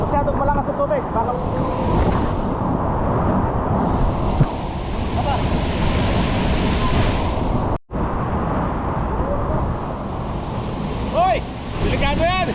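Rushing water roars steadily at Pagsanjan Falls, a loud, continuous broadband wash with a brief dip partway through, while people talk and call out over it.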